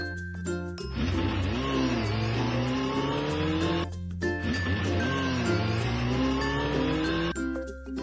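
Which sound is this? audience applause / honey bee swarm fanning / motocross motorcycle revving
motocross motorcycle revving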